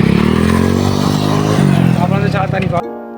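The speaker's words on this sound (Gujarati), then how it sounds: "ઉમેશ તો ઉમેશ કેટલા સમય સુધી સામે બાઇક લઈ જાય" A motorcycle engine runs loud and close with a steady, buzzing drone during an outdoor riding challenge, then cuts out abruptly near the end.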